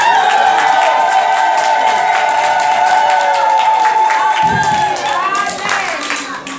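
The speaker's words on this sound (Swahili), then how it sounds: "Nataka mtu mmoja anashangilia neno la Bwana." A Pentecostal church congregation in Shinyanga, Tanzania, raises a loud, continuous wash of cheering, clapping and crowd noise that fills the space throughout, easing slightly toward the end.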